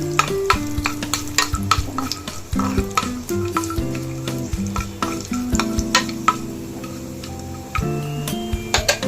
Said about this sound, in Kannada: ಇವಾಗ ಬೆಳ್ಳುಳ್ಳಿ ಸ್ವಲ್ಪ ಹೊತ್ತು ತಿರುಗಿಸ್ಕೊಳ್ಳಿ.